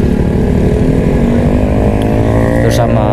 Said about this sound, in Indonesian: Terus sama suara knalpotnya enak atau enggak gitu aja sih.